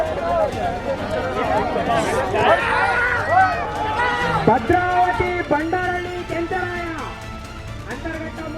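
A crowd at a ram fight cheers with sharp whistles, shouts and clapping in an uneven, excited swell, with loud voices calling out close by.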